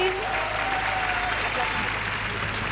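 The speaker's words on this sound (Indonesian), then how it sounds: "Tepuk tangan sekali lagi untuk Calvin Jeremy." Dense, steady applause from a studio audience on an Indonesian dating game show, filling the whole stretch at even strength, with a sustained tone and some voices faintly beneath it.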